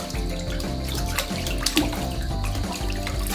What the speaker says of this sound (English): Like spilling the water like that.